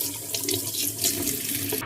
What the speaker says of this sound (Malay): Okay, masukkan air asam.